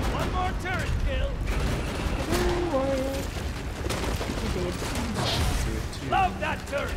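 Turret gunfire from a co-op video game, a sustained stream of rapid shots and booms running under excited talk and game sound effects.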